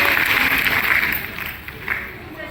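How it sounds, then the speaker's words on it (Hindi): An audience at a mock parliament event with children claps to welcome guest Dr Dilip Jaiswal, a dense, loud burst of applause and crowd noise that slowly eases off. "जोरदार तालियों से एक बार स्वागत करें माननीय दिलीप जायसवाल जी का"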